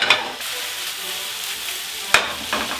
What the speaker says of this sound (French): Tourne et retourne. L'ail cuit tranquillement.